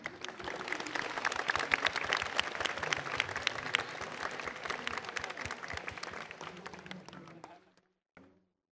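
An audience at a school's 30th anniversary show applauds steadily, dense clapping that stays strong for about seven seconds, then fades out, with a brief final patter after a pause.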